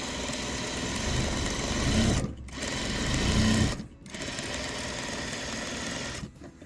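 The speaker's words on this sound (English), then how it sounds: "I'm going to stitch along both sides of the drawn line" A sewing machine stitches quilt fabric along a drawn line, a quarter inch from the mark, running in a steady fast whir for a few seconds, pausing briefly, then resuming, close and loud, with no speech.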